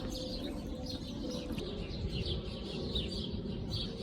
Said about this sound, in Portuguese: Olha os passarinhos cantando.